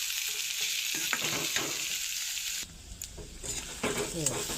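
Spinach, peas and boiled fish sizzle loudly in a hot pan for a homestyle dish. The frying drops away midway to quieter scraping and stirring, with brief sizzle bursts returning near the end.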